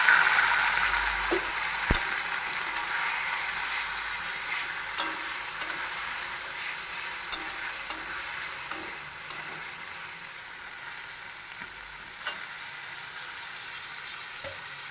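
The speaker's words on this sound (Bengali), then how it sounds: "তো আলুটা লাল করে ভেজে নিচ্ছি" Potatoes fry in hot oil until browned for a mutton dish, a steady close sizzle with occasional sharp ticks and stirring scrapes, no talk.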